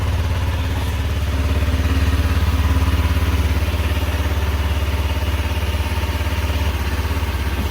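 An outboard boat engine idles during a weekly start-up check, a loud, close, steady rumble with a low, even throb that runs unbroken throughout, with no one talking.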